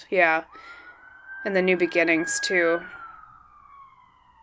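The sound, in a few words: sirens in the background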